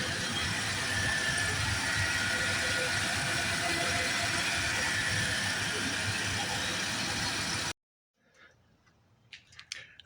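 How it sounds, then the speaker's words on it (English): A 1995 Ford F150 engine runs steadily after a water pump replacement, a loud, even hum and hiss up close for about eight seconds, then stops abruptly, leaving faint quiet movement. "engine's running nice and cool"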